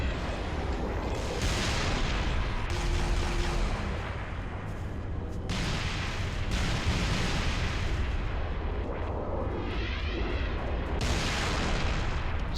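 Incoming plasma fire and explosions in the video game Tip of the Spear, with a plasma launcher in use, a dense, loud barrage of booms and bursts that keeps up throughout.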